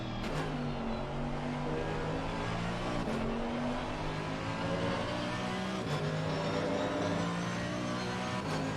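A Mercedes-AMG GT3 race car in a racing video game at Misano drones along with a steady engine tone that climbs in pitch and drops sharply at each upshift, three shifts spaced a few seconds apart, heard fairly quietly throughout.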